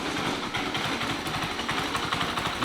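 A homemade quadracycle engine idles steadily just after a push start, a continuous close mechanical putter with a slightly uneven rhythm and no talking over it.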